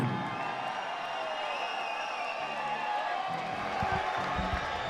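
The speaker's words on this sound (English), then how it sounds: "Well, you can hear the crowd, ladies and gentlemen." An MMA event crowd cheers and whoops as a fighter arrives, a dense, fairly distant roar that holds steady throughout.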